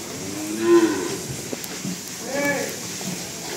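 A cow moos twice at close range on a farm, a drawn-out low call near the start and another around the middle, with faint human voices and shuffling underneath.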